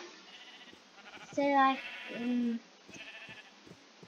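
Minecraft sheep bleat in two short wavering calls in the middle, with a player talking briefly around them.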